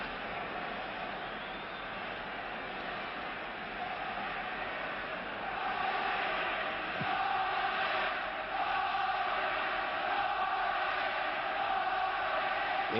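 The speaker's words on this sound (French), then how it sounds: "Et vous entendez la foule de Wembley scandant Scotland, Scotland." A vast Wembley football crowd at the 1971 England versus Scotland match, a dense continuous roar of chanting supporters swelling slightly louder midway, heard as a distant, washed-out wall of voices with a faint commentator voice over it.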